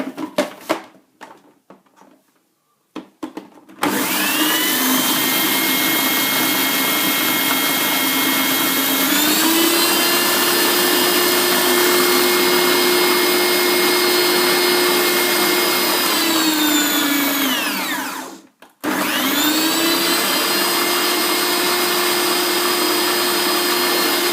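A blender grinds toasted rice with a loud, steady whirring roar that rises in pitch, cuts out briefly near the end, then restarts, after a few short bursts at the start.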